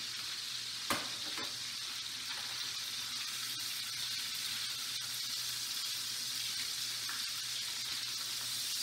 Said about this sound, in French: sauter mon échalote. Aussi sauter mes champignons avec mes aromates.